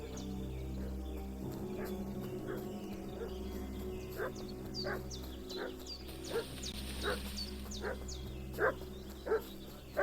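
A dog barks repeatedly in the Kingdom Come Deliverance 2 video game, sharp barks at a moderate distance, growing more frequent toward the end over a low ambient bed with faint birds.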